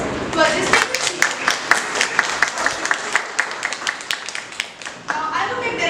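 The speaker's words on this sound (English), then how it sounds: "Please join me in giving a hearty round of applause to our distinguished speaker" An audience claps for a distinguished speaker at an academic marketing event on the power of AI, a steady round of applause with dense overlapping claps, fairly close and loud, rising briefly toward the end.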